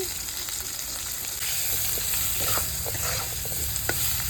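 Drumstick pods and salt fry in hot oil with nigella seeds in a pan, giving a loud, continuous close sizzle with faint stirring scrapes throughout.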